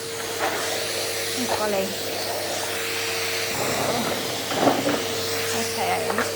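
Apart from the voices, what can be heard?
vacuum cleaner vacuuming floor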